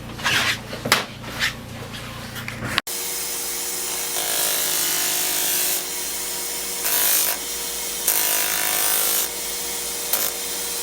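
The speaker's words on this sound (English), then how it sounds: "for these pieces that are sticking up, just sand it flat" Foam pieces are sanded flat during a lamination job. A few scraping strokes come first, then a steady, loud, hissing sanding noise runs without a break, swelling slightly at moments.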